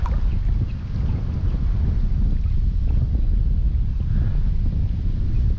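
Steady seashore wind while shore-casting for fish: a continuous, loud, low rumbling roar pressing on the microphone with no break and no talk.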